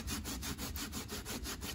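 Box blade saw cutting the sides off wooden dorsal fins for a wahoo spearfishing decoy, a close, steady rhythm of rasping back-and-forth strokes with no talk.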